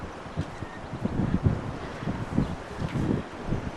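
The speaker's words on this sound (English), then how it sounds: "Wind's blowing today." Wind blowing outdoors across open hills, a steady low rushing with gusty surges and rustling, close to the microphone, no talk.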